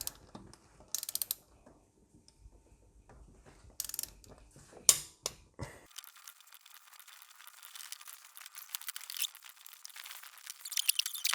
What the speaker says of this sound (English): we'll tighten all the bolts in the same sequence again with 50 Newton meters